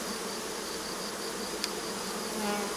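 Dense, steady buzzing of many honeybees close by at a crowded hive, a continuous droning hum with no talking.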